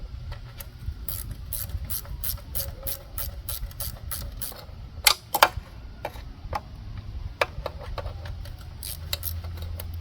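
Hand ratchet loosens an oil-covered bolt on a Tecumseh engine from an Ariens rototiller, giving a fast run of close, crisp clicks with a few louder knocks in the middle.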